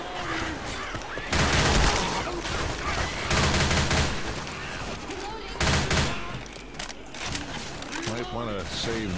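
Shotgun blasts in the Left 4 Dead 2 co-op game come in several loud bursts of gunfire with spaced volleys, mixed with players talking over the action.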